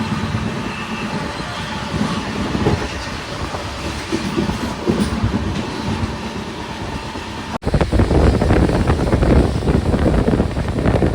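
A train pulling into Yerraguntla station, with a steady rumble and rattle of rolling wagons and some wind buffeting, briefly cut and then growing harsher and louder.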